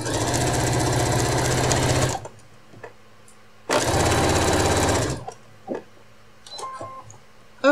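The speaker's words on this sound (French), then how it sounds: "Donc je couds le long du bord du haut" A sewing machine runs two loud, steady bursts of rapid stitching along the top edge of a retro apron, each about a couple of seconds long, separated by a pause with faint handling clicks and small fabric noises.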